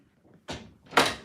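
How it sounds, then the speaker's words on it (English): A door being pushed shut indoors during shelling gives a soft first thud followed by a louder closing bang, two close impacts with no talking. "Lily, can you shut my door, please, all the way?"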